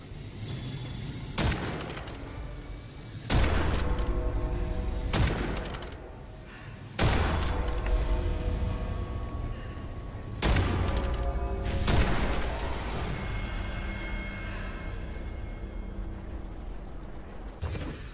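Bombs bursting repeatedly in the FPS roguelike Witchfire, loud booming blasts every few seconds over heavy continuous gunfire and mechanical combat noise.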